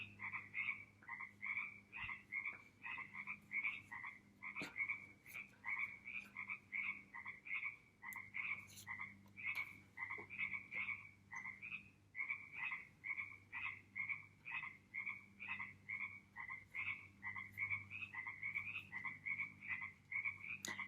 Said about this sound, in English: If you guys hear frogs in the background